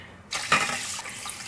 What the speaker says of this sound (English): Now we're gonna add 5 cups of water.